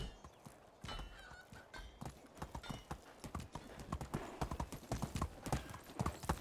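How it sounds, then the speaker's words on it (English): Horse hooves clip-clop steadily in the medieval farming game Medieval Dynasty, a brisk rhythmic run of close, fairly loud hoofbeats that continues throughout with no talking over it. "I do like my horse."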